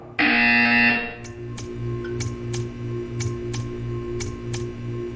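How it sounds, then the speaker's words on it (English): A loud electronic buzzer in the video game Portal 2 blares for about a second, followed by a low hum and a series of evenly spaced ticking clicks. "You will hear a buzzer."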